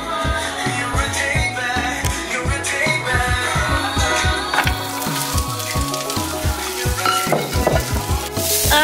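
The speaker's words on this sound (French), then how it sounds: "je vais mettre mon riz dans mon poêle avec les légumes qui sont presque finis" Rice and nearly cooked vegetables with spices sizzle in a frying pan while a utensil stirs them, scraping in a regular rhythm. The frying is loud and close, with no speech.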